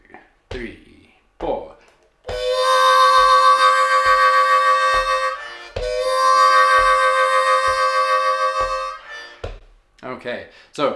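A Bb harmonica plays a lick in two long, wailing chordal phrases broken by short rhythmic gaps, with breathy sounds or brief speech before and after.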